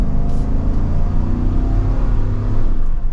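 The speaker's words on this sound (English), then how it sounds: "And with another acceleration," A 2023 GMC Yukon XL Denali 4WD accelerates, its engine a steady, loud, close drone heard from inside the cabin without a break.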